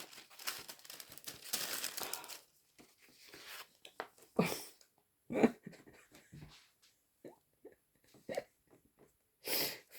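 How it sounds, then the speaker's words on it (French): Inked tracing paper crinkles and rustles in short bursts close by, with pauses between the handling noises. "Là, c'est du calque avec de l'encre dessus."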